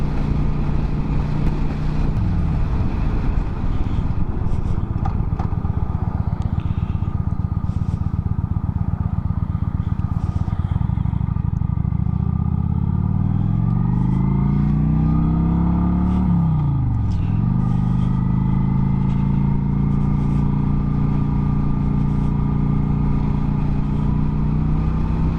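Kawasaki Vaquero motorcycle cruising on a surface street, a steady loud engine drone with rising and falling revs and gear shifts, heavy wind rush blowing throughout.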